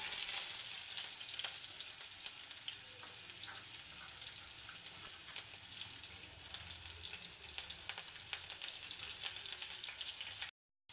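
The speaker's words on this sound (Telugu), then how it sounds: "ఆనియన్స్ వేగిన తర్వాత మనం వాష్ చేసి పెట్టుకున్న మునగాకు వేసుకున్నాం." Onions frying in a pan that already holds crackling seeds, a steady close sizzle running almost without break for about ten seconds, with light stirring and no talk.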